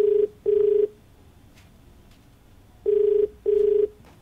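Telephone ringing on a TV studio call-in line as the show dials its first caller: two pairs of clear electronic ring bursts, each pair a quick double ring, separated by a long quiet gap, no talk over it.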